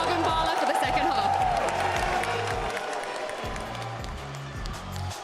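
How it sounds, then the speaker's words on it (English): Live esports arena crowd cheering and applauding at a Valorant Champions match, a loud sustained roar of clapping and shouting that fills the hall and stays dense throughout, with voices and rhythmic thumping mixed into the noise. "Make some more noise for Crew, everyone."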